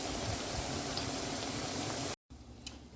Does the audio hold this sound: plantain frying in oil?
yes